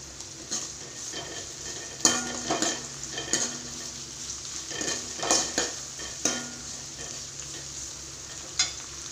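Curry leaves frying in hot oil for a bitter gourd tamarind curry, a steady sizzle broken by stirring scrapes and occasional sharp utensil clinks against the pan, with no talking.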